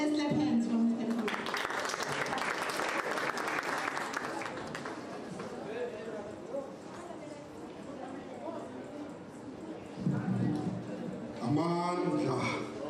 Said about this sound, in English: Let's clap hands for Mr. Mpuna.